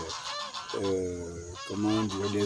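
Farm geese honk loudly and close by in repeated harsh calls, with poultry, turkeys and ducks also kept on the farm.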